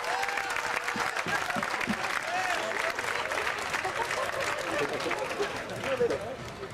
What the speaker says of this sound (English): Give that dude a big round of applause.